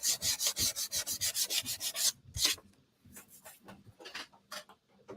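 Sandpaper rubbed over a wooden craft sign insert in rapid, even back-and-forth strokes for about two seconds, then a few slower, scattered scrapes, close and fairly loud with no talking.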